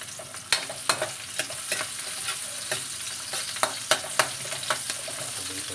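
Onions and tomatoes being sautéed in a pan, a soft continuous sizzle broken by sharp spatula clicks and scrapes at irregular intervals.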